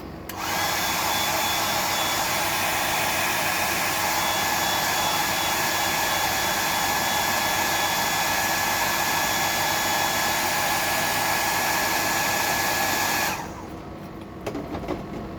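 A hair dryer blows on wet paint, producing a steady, loud whirring hiss for about thirteen seconds before it switches off, leaving quiet room tone.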